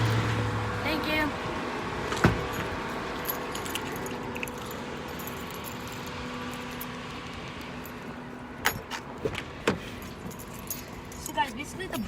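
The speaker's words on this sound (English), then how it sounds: "I left my car key in the bathroom" Car keys jangle in several brief metallic bursts over a quiet indoor background hum, with faint talk in the room.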